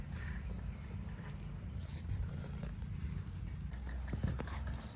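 A Marwari horse walks slowly, its hooves clip-clopping in a steady, unhurried rhythm over a constant low background rumble.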